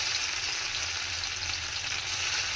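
Paneer pieces lightly shallow-frying in oil in a pan, giving a steady, even close-up sizzle with a soft background rumble and no talking.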